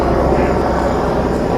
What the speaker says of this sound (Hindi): और एक हवाई जहाज़ भी हमें दिखाई दे गया है जाता हुआ